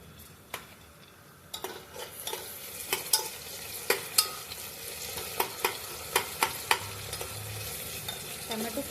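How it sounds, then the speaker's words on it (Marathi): Tomatoes frying in a pan for masale bhat, a soft sizzle under repeated rhythmic spoon scrapes and taps against the pan, close and moderately quiet. "टोमॅटो सुद्धा मऊ होईपर्यंत व्यवस्थित भाजायचा आहे।"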